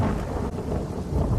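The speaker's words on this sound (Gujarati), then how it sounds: "મુશળધાર વરસાદ આ વિસ્તારમાં વરસી રહ્યો છે" Torrential rain pours steadily in Dwarka, a loud dense roar with low rumbling thunder blended in throughout; no voices.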